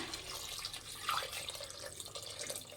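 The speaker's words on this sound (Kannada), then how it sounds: "ನೀರು ಹಾಕ್ಕೊತಾ ಇದ್ದೀನಿ ಈಗ" Quiet trickling and splashing water, poured close by into a pot of chopped tomatoes for drumstick saaru, in a steady, low stream with faint drips.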